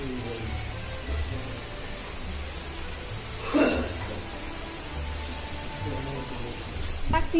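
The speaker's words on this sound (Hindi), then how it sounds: "देखो कितनी बारिश हो रही है" Rain falls steadily in a soft, constant hiss, with a few louder splashes or knocks partway through and near the end.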